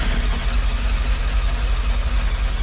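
A Suzuki Bandit 1250 motorcycle engine runs at idle, a loud, steady low throbbing rumble that holds even throughout with no voices.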